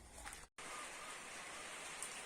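Steady rain hisses continuously, with a brief cut near the start before the even downpour resumes; no talking.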